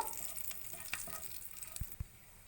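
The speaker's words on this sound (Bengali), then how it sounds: "তো এটাকে আমি বেশ ভালো করে নেড়ে নিচ্ছি, যতক্ষণ না এটা থেকে ভালো একটা স্মেল বেরোয় ততক্ষণ আমি নেড়ে নেব" Whole spices sizzle softly in oil as a prawn malai curry tempering is stirred, giving a faint, continuous crackle broken by a few light scrapes and two low knocks near the end, with no voices.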